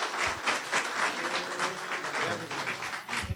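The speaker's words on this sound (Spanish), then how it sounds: "Recibamos con un fuerte aplauso a Fernando Bendezú desde Tacna." An audience at a UFO conference gives applause as a speaker is welcomed, a continuous moderate clapping from a roomful of people with no voices over it.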